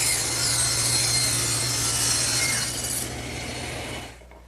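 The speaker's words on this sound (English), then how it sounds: "all I'm going to use is the table saw. I've tilted the blade to 45 degrees" A table saw with its blade tilted to 45 degrees bevels the corner of a wooden table leg, giving a loud, steady high-pitched cutting whine that drops away near the end as the cut finishes.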